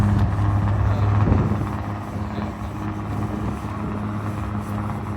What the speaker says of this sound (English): Because it's the generator.